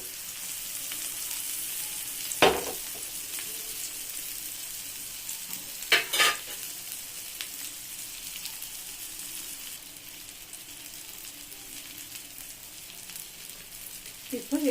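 Chopped vegetables fry in a little oil in a pan for a vegetable omelette, giving a steady, moderate sizzle throughout with a couple of brief clatters of stirring.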